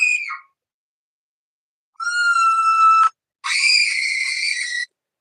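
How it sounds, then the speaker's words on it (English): A person's high-pitched screams ring out in three bursts, a short cry followed after a pause by two sustained shrieks of about a second each, loud and close with silence between. "he made a video of me screaming"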